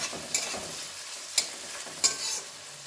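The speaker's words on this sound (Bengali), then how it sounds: "চিংড়ি মাছগুলো নাড়াচাড়া করে আমি ভেজে নেব।" Prawns fry in hot oil with a soft, continuous sizzle. A few sharp clacks of a spatula stirring them in the pan stand out over it.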